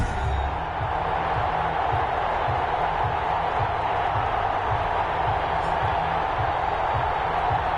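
A stadium crowd roars before an NFL video game matchup between the Houston Texans and the Memphis Egyptians, a dense continuous wash of cheering that stays steady and loud from start to finish.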